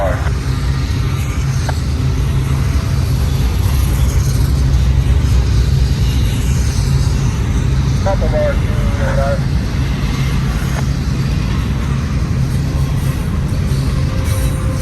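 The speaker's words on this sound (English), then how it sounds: "Okay, we've got another train coming." A train rumbles steadily past with low, continuous rail noise and occasional wheel squeal, while someone speaks briefly over it.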